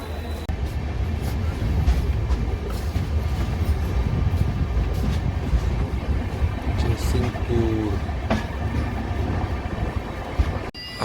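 The Mahalaxmi Express from Mumbai to Kolhapur rumbles along steadily near Jaysingpur and Hatkanangale, with a constant low roar and faint clatter heard from inside the moving train.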